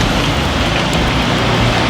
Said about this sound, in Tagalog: Kaso nga lang, napakaano talaga ng ulan.